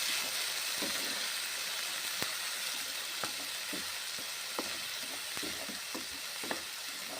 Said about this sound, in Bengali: কড়াইয়ে গরম তেলে মশলা ছেড়ে দিলাম কষে নিচ্ছি মশলা